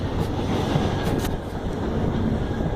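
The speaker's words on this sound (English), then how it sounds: "There goes the HST, and 43005 on the rear." A Great Western Railway HST passes at Exeter St Davids station with class 43 power car 43005 on the rear. It makes a loud, close, continuous rumble and rush of wheels that holds steady through the short stretch.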